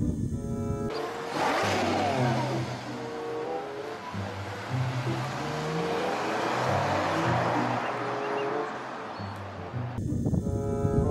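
A toy race car engine revs in rising and falling whines, a continuous mid-loud run of about nine seconds with brief breaks at the start and end.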